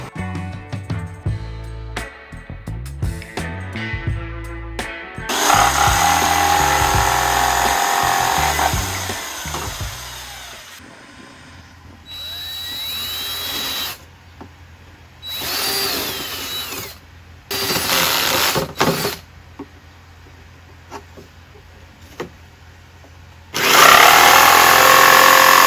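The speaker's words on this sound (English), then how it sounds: "I could probably drill the holes where I want to" A power drill bores holes during the electrical wiring of a campervan. It runs in several loud bursts of whirring and grinding, each lasting a few seconds, with short pauses and quieter handling noises between them.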